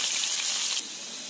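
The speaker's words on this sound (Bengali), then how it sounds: "আলুগুলোকে একটু ভেজে নেব লাল লাল করে।" Whole cut potatoes frying in hot oil, a steady broadband sizzle that drops abruptly partway through, then continues more quietly, close and without talk.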